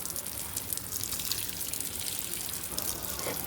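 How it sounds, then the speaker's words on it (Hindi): Water splashing and trickling steadily onto potted plants outdoors in the sun, a constant close pour without a break. "मैं पहली बार आई हूँ ऐसे दिन में पौधों को पानी देने"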